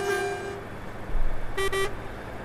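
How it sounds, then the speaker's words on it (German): A Volvo F-series Globetrotter truck horn sounds in Euro Truck Simulator 2, one long blast followed after a pause by two short toots over a low, steady engine rumble. "Die Hupe fetzt doch sehr authentisch."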